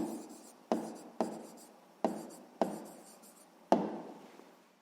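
A pen scratches across paper while a sixth-grade maths exercise on the coordinate line is written out, with steady close strokes broken by six sharp taps or pen-downs spaced about half a second to a second apart.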